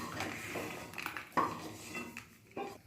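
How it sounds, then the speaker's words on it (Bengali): Fried lentil dumplings are scooped out of a kadai into a bowl, giving a few light clinks and scrapes of a metal spoon against cookware, close and fairly quiet. "এবার বড়িগুলোকে একটি পাত্রের মধ্যে তুলে নিচ্ছি।"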